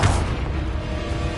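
Blasting Confringo spell explosions in the video game Hogwarts Legacy give a loud, dense boom with a sustained low rumble throughout, no clear separate bursts.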